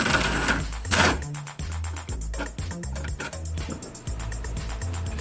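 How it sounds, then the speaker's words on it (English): A pneumatic impact wrench hammers in a rapid rattling burst on an 18mm engine mount bolt of a 2009 Chrysler PT Cruiser, then stutters through short repeated pulses, close and loud in a garage. "I'm using an air impact because it's just easier for me to do that"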